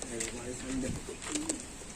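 Pigeons coo in soft, repeated throaty calls close by at a pigeon seller's home loft, mixed with someone talking over them.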